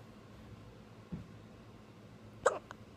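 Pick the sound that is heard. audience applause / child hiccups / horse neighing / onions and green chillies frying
child hiccups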